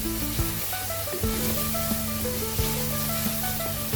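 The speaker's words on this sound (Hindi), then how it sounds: "ये मसाले इसके अंदर डाल देंगे, और मसाले के साथ इसे थोड़ा सा हम भूनेंगे" Spices frying in oil in a pan for a minced-meat dish, giving a steady close sizzle with light stirring clinks and knocks under faint background music.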